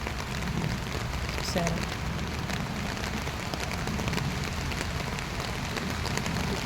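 Heavy rain falls steadily in Maryland, a broad constant wash of noise with a brief spoken word partway through.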